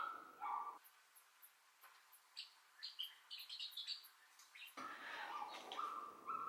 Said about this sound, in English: there is a dog that loves to play in the dog park right below me